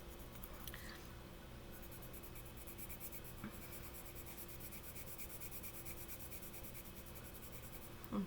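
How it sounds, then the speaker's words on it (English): Colored pencil rubbed over paper, layering and blending wax-based color, makes a steady close scratchy friction that runs throughout with faint background hum. "And I'm just coloring on top of it"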